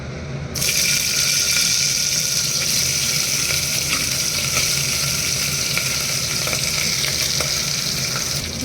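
Mutton pieces frying in a couple of teaspoons of hot oil give a loud, steady sizzle that holds for about eight seconds after a sudden start, with faint stirring scrapes and no voices.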